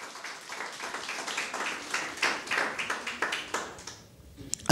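Congregation at a Catholic church service applauding, scattered claps blending into a steady, moderate round that fades toward the end.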